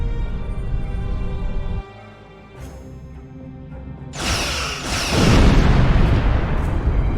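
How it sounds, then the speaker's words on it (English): Starship weapons firing in Star Trek Online, a space combat game: a low hum drops away, then loud broadband blasts erupt and roll into a sustained, booming barrage with no talk over it. "Target that ship, and fire all weapons!"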